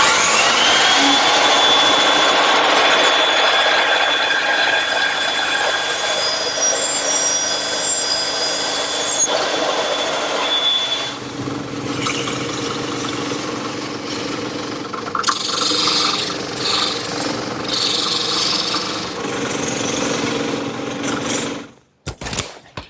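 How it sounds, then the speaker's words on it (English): A bandsaw cuts wooden furniture rails in a woodworking shop, a loud continuous whining machine drone with a shift in tone midway as the blade works through the stock, ending with a short run-down. "I'll just use my bandsaw."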